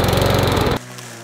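Karcher LMO 18-36 battery lawn mower running with a loud, close, steady whirring drone that cuts off abruptly partway through, leaving a quieter background.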